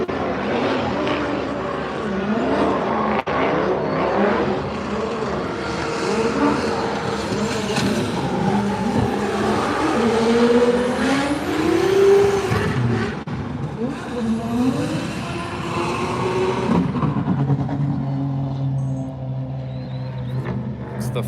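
Panda-liveried drift car at Drift Masters Finland practice, engine revving and whining through rising and falling pitch sweeps as it drifts past, loud and sustained, with people talking over it.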